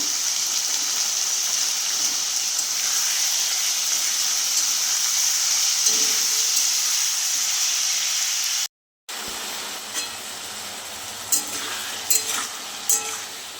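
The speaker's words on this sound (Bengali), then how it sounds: "আর টমেটোগুলো তুলে দেবো, দিয়ে ভালো করে ভেজে নেব।" Tomatoes frying in a pan, giving a steady, loud hiss and sizzle that runs on, cuts out briefly, then resumes with a few light clinks and stirring scrapes.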